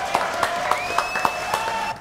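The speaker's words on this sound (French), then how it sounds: "applaudissements pour Mitch" A studio audience claps for a guest named Mitch on a French comedy TV show, a short burst of applause with distinct individual claps over a steady tone, fading at the end.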